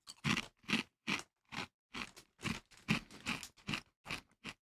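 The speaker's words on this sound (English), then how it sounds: "Can you hear me chewing those?" Loud, close crunching of crispy snacks being chewed, a steady run of sharp bites and crunches in quick rhythm with brief gaps, no talking.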